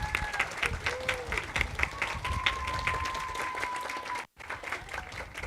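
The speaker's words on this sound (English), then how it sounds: "Let's give all those folks a great round of applause." Audience applause at an outdoor groundbreaking ceremony for an elementary school, a steady crowd of clapping with a faint tonal whistle running through, cut by a brief dropout near the end.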